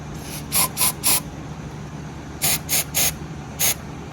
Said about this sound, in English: hit it with a couple shots of accelerator on each end